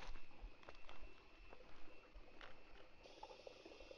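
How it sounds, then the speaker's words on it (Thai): A forest stream near a cave at Khao Luang, Sukhothai, flows continuously, giving a faint, steady gurgle and trickle of running water with no one speaking. "ได้ยินเสียงลำธารครับมีน้ำไหลอย่างต่อเนื่อง"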